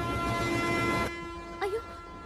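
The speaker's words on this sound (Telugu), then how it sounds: "అయ్యో ట్రైన్ స్టార్ట్ అయింది" A train's horn sounds with a sustained tone through background chatter on a station platform, then stops abruptly and is followed by a short rising whistle-like squeal as the train starts to move off.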